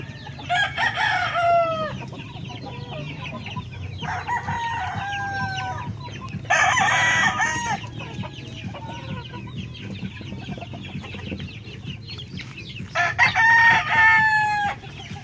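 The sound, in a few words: chickens and roosters crowing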